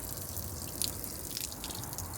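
Water drains out of a camper van's drinking water tank in a steady trickling flow, with a few brief drips standing out near the close.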